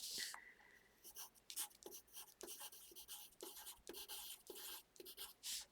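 Pen or pencil writing by hand on a paper page, close scratchy strokes in short bursts with pauses between, alone with no talking.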